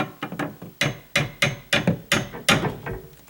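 A hammer taps a plastic drywall anchor into a wall, about ten light, sharp knocks in a quick, slightly uneven rhythm, close up with no talking.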